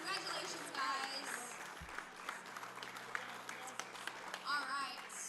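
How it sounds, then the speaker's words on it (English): Crowd applause rings out at a powerlifting competition, the 2025 APA Age Category and Equipped Nationals, a moderate, fairly distant clapping that carries on for several seconds with voices talking over it. "Huge round of applause."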